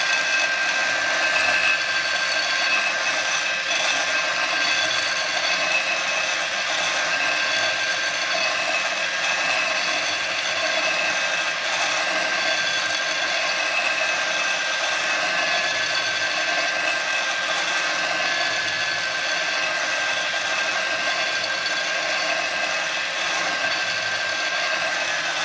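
A belt grinder runs steadily while a knife blade is sharpened at a set angle, giving a continuous, loud, even abrasive whine with bright tonal ringing that holds unbroken for the whole stretch, with no talk.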